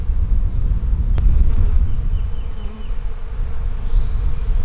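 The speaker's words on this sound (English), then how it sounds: "These bees are wanting to swarm." A dense, steady buzz of many honeybees in an open hive preparing to swarm, close to the microphone, low and continuous throughout with no talking.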